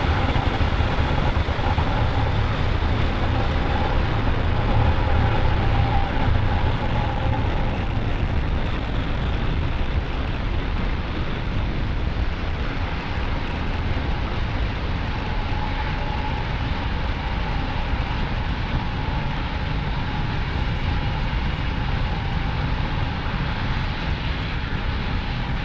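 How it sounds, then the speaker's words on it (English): A SpaceX Falcon 9 rocket lifts off from Pad 40 at Cape Canaveral Space Force Station, producing a continuous, loud, broadband roar that stays steady and heavy throughout. "2, 1, ignition, and liftoff of Falcon 9."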